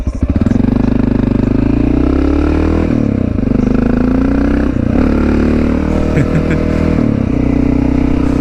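Honda XR650L dual-sport single-cylinder thumper engine revving hard with throttle blips as it lifts into a small wheelie on a country road, loud and close with steady engine drone throughout.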